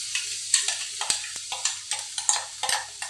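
Green chilies for a papaya pickle sizzle in hot oil over a low flame, with repeated scraping stirs of a spoon against the pan forming a steady rhythm close by.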